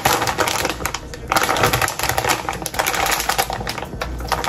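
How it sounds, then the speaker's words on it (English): Aluminium foil being unpacked for an air fryer while cooking a copycat KFC Famous Bowl at home, loud and close, with dense continuous crinkling and crackling, rustling bursts throughout. "First, I'm gonna put foil in there."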